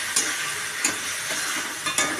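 Garlic and chilli paste frying in a pan for a chicken curry gives a steady close sizzle, broken by a few sharp scrapes and taps of a spoon as it gets stirred, with no talking.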